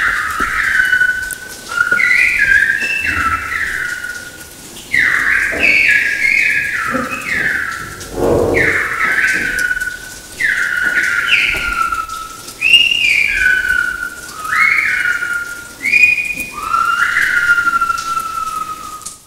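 A person whistles Silbo, a whistled language, in a sequence of sharp, rising and falling tones in short phrases, loud and close, with brief gaps between them.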